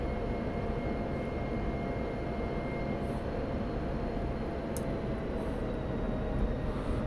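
Jet aircraft in the DCS flight simulator on landing approach with engines at idle and speed brake out, a steady broadband engine rumble and airflow roar holding evenly throughout, with no talk.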